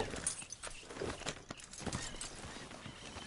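A horse in Red Dead Redemption 2 clip-clops along with an uneven run of hoofbeats, moderately close. The steps come over a faint outdoor background.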